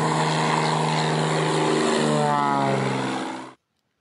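A propeller airplane engine drones steadily and loudly with a rich, even hum for about three and a half seconds, then cuts off abruptly into silence.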